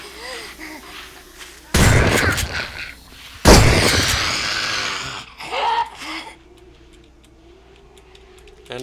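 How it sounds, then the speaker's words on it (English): In the video game 7 Days To Die, a shotgun fires at zombies with two loud close blasts a couple of seconds apart, each with a short ringing tail, followed by fainter clicks and scuffles. "I'm gonna keep killing zombies till I run out of shotgun shells."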